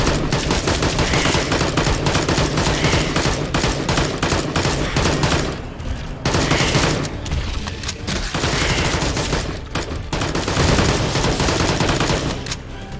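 Dense, sustained gunfire from the VR shooter Immortal Legacy, with bursts of rapid and machine-gun-like shots running nearly nonstop at high loudness, with only brief lulls between volleys.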